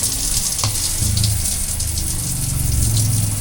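Water runs from a shower in a Peugeot Boxer camper van conversion with the water pump on, a constant close hiss and gush over a low pump hum.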